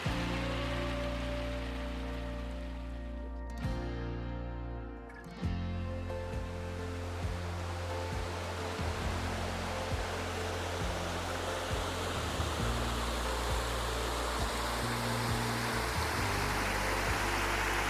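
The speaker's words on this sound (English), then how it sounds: "And you have the gorgeous sound of a waterfall to lull you to sleep." A strongly running waterfall roars beside a tent campsite, a loud, steady broadband rush that fills the whole stretch with only small shifts in level.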